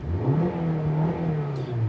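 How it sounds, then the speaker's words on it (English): Heard from inside the cabin, the engine of a 2022 Maruti Suzuki Baleno Alpha manual revs up and holds near its limit, then eases slightly, a muffled but steady, continuous drone with no talking. "But this is the amount of engine note that you will get to hear inside the cabin."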